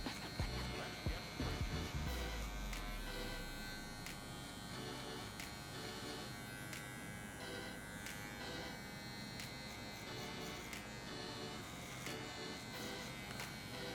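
Electric hair clippers with a zero guard buzz steadily and close while fading afro-textured hair in a mid fade, with a faint continuous hum and light handling knocks at the start.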